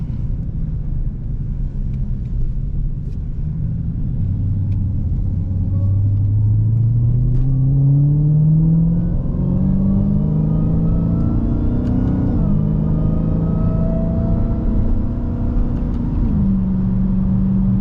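A 2023 Dodge Challenger Hellcat Jailbreak revs up with a rising supercharger whine climbing in pitch, shifting, then climbing again, loud and close with a low rumble underneath.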